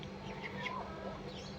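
White American Silkie chickens cluck and chirp in short overlapping calls, close and moderately loud over a faint constant hum.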